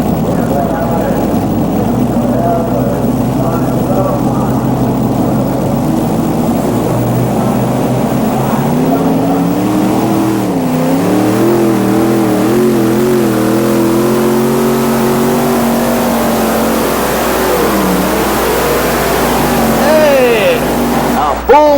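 Mission Impossible pulling tractor with five 1,600-horsepower Arias V8 engines roaring at a 1986 NTPA pull in Bowling Green, a loud sustained multi-engine drone that bends in pitch as it works, with an announcer talking over it.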